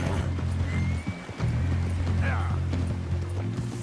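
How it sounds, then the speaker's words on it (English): A Hungarian Half-bred horse in Red Dead Redemption 2 moves with soft hoof clops and tack rattles, joined by a brief whinny, under a low game music drone. "I want to try out this Hungarian half-bred. Yeah, this is a horse."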